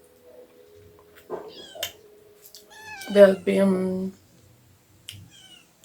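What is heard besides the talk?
cat meowing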